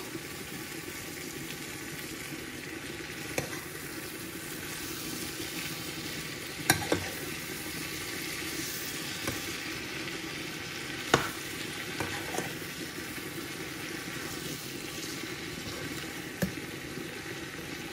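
Green beans (lubi) stirred in a hot pan for a Bangladeshi curry, with a steady soft sizzle of frying throughout and a few sharp scraping knocks of the spoon against the pan.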